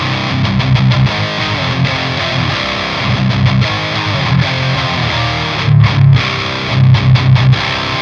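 Electric guitar played through a Thorn Magma distortion pedal with gain set around noon, thick saturated chords and riffs ringing loud and continuous with brief choppy stops.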